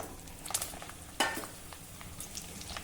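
Eggplant pieces frying in hot oil in a wok, a soft steady sizzle with faint crackles and one sharper pop of spattering, fairly quiet and alone.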